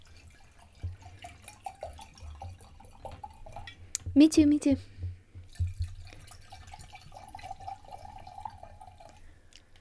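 A drink is poured from a novelty panda-shaped pourer into a cup, giving a short, close gurgling trickle of liquid amid quiet room tone, with people talking briefly around it.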